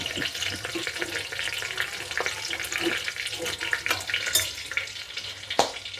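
Spices crackle and sizzle in hot oil for a Marathi phodni tempering with crushed curry leaves, a steady close frying hiss with scattered sharp pops, no talking.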